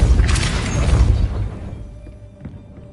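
A Depulso spell goes off in Hogwarts Legacy with a loud, deep whooshing blast that booms and crackles for about a second, then fades into a quiet tail with a couple of faint knocks.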